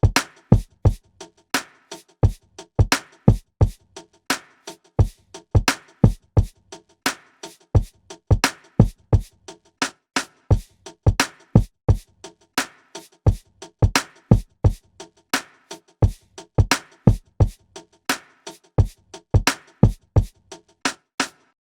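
A programmed drum loop made from chopped old-school drum samples in Maschine repeats steadily, with punchy kicks and snares in a laid-back swinging groove and no talking.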